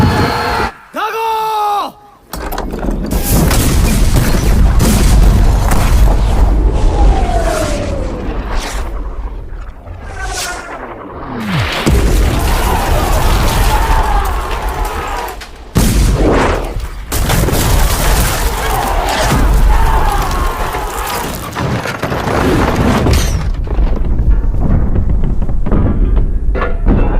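Cannons pounding a fortress gate and towers in a Hindu mythological battle film, a dense barrage of deep booms and crashing blasts with shouting voices mixed in, loud and sustained almost throughout.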